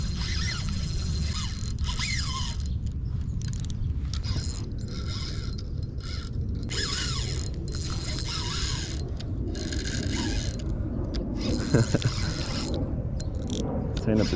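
A fishing reel's drag ratchets and clicks while a catfish is reeled in at a pond, a continuous close mechanical whirring over a dense low rumble of handling and outdoor noise.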